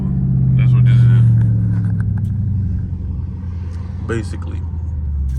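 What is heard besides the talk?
Dodge Charger Scat Pack engine driving, soft downshifts in street mode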